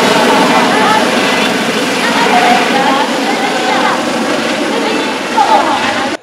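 An aviation service corps rescue helicopter flies over an earthquake rescue drill in Keelung, its steady, loud rotor and engine roar filling the scene while a voice talks over it.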